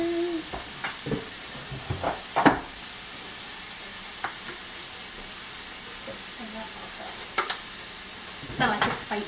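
Sausage for keto sausage gravy browning in a pan, a steady soft sizzle throughout with occasional stirring scrapes and clinks, fairly quiet and continuous.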